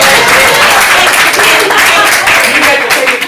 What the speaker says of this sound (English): Let's give big applause to victorious Captain Jamie as he comes up here.